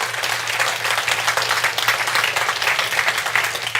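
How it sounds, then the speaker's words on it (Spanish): A church audience bursts into steady, dense applause that holds evenly throughout, close and full, with no voices standing out. "Si va a dar un aplauso, déselo a Él."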